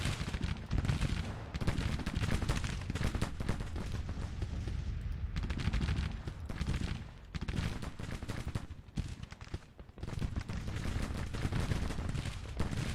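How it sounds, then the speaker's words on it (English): Continuous volleys of musket and artillery fire from a Civil War battle in the strategy game Grand Tactician: The Civil War, a dense, steady roar of shots lasting throughout with only brief dips, no speech over it. "Oh, they're still firing."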